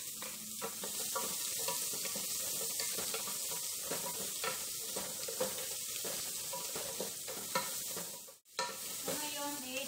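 Onion sautéing in a pan with a little water, giving a steady loud sizzle with frequent stirring scrapes and clinks throughout, briefly cutting out near the end.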